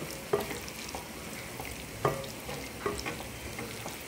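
Banana flower and potato curry stirred with a spatula in a pan, a low steady frying sizzle punctuated by three distinct metallic scrapes and clinks, close up and fairly quiet, with no voices.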